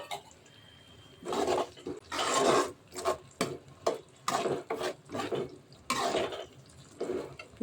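Ground tomato paste is poured and scraped into a pan of fish curry in several wet, splattering bursts, close and moderately loud, with short pauses between them.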